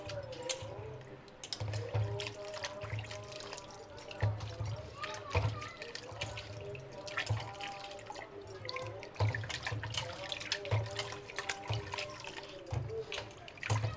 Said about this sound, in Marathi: स्वच्छ धुवून घेते आता आंबे.